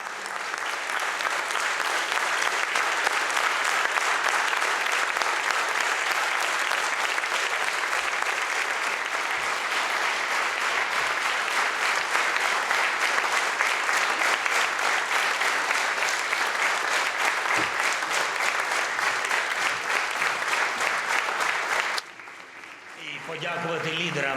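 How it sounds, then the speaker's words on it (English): An audience at a summit of leaders gives sustained, dense applause, loud and even for over twenty seconds before cutting off abruptly. "give a rapturous round of applause to those who are defending our country day in, day out"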